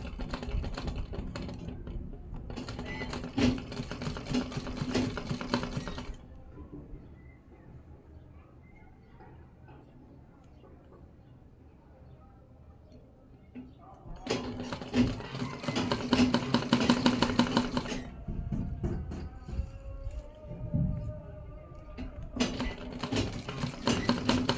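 A sewing machine stitches a round edge on a dress for a three-month-old baby in fast, buzzing mechanical bursts, with a quiet pause in between where a voice talks softly.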